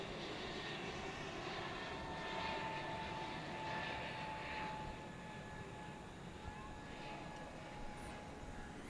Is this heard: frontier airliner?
yes